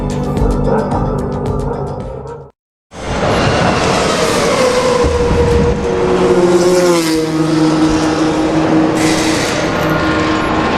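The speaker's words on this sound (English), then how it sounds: "the first engine of the day has fired into life right below my commentary box" F1 car engine from the F1 2013 racing game fires up and runs, a loud sustained mechanical roar after a brief silence, with rising and falling revs.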